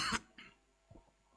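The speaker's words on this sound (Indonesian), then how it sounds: "Maaf, saya ada batuk dulu." A single sharp cough bursts out near the start, followed by a softer second catch of breath and quiet throat noises in an otherwise hushed indoor room.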